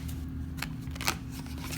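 A deck of tarot cards is shuffled and handled up close, with a steady run of soft riffling and papery slaps lasting under two seconds and no talking.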